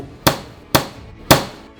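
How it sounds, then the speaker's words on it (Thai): A hammer strikes a Zagg phone screen protector three times, hard enough to break it. Each blow is a sharp, close, loud crack with a short ringing decay, spaced about half a second apart. "ตอกสุดแรงเกิดมันแตกนะฮะ"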